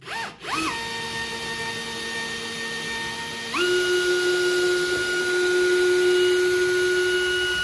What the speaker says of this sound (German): Hier bohren wir jetzt einfach ein Loch durch die Schotterbettung durch.